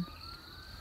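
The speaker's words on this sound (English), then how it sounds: "Hear a siren?" A brief, faint emergency vehicle siren wails steadily in the distance, thin and sustained over low background noise.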